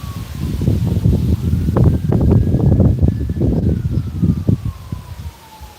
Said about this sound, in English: I think this is the first time ever I've heard sirens in this town